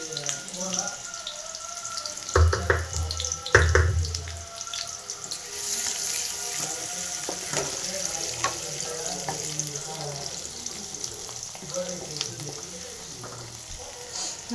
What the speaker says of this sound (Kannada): ಈ ಎಣ್ಣೆ ಒಳಗಡೆ ಈರುಳ್ಳಿ ಹಾಕ್ಕೊಳ್ಳೋಣ.